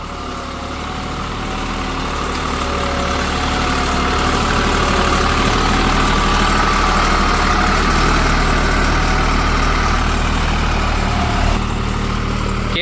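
A new-model Deutz-Fahr Agrolux 50 tractor engine runs steadily, a loud, close, continuous diesel drone that swells slightly at the start and then holds even. No one speaks.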